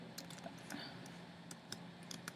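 Fast, light key clicks come from a computer keyboard in a quiet room, irregular and close, with a few sharper taps standing out.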